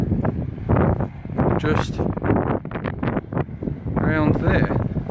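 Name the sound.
strong wind on the microphone at Folkestone cliffs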